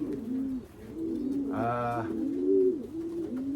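A racing pigeon gives a soft, throaty coo near the middle, with faint bird chatter and low background murmur around it.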